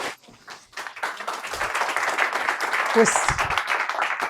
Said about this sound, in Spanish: ese aplauso va para el hombre de la sábana